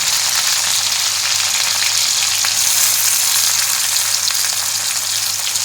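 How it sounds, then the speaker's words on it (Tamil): Mustard seeds and onion fry in hot oil in a pan for a banana stem stir-fry, a steady loud sizzle and crackle throughout with no talking. "கடுகு போடுறேன், வெங்காயம் போடுறேன்"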